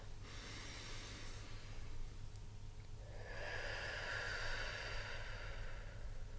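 A medium-length breath taken during a singing warm-up exercise, a steady airy inhale that swells into a brighter, louder hiss over the last few seconds, heard alone without talk.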